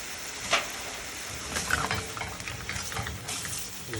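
Steak sizzling steadily in a pan with Worcestershire sauce and mustard, a close, moderate frying hiss with a few brief clinks and stirring sounds, no talking.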